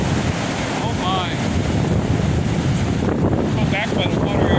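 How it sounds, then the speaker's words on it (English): Strong windstorm gusts buffet a tent near open water, a loud, continuous rush of wind with wind hitting the microphone and a low surf-like roar throughout. "Look at the gust of wind that's hitting the tent."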